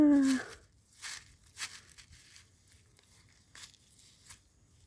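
Plastic mulch film is pulled from soil while beans or perilla are planted, giving a loud crinkling tear at the start, then several soft rustling scrapes spread through the rest.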